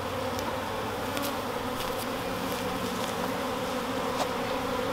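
Honeybees swarm around a hive in a steady, dense buzz, with individual bees flying close past now and then.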